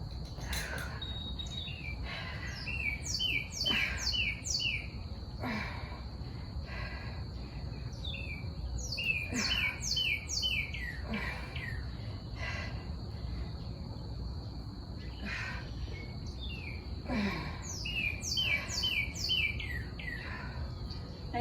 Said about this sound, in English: I said about the birds not being noisy.